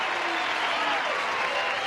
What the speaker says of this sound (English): They're applauding your lousy poems, Gene